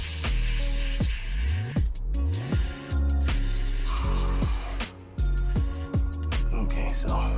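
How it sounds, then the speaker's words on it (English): WD contact cleaner sprayed into an electrical connector on a Mercury Grand Marquis power steering switch, with several short hissing bursts close by, interrupted by clicks and handling noises. "We're going to use some contact cleaner here, WD contact cleaner."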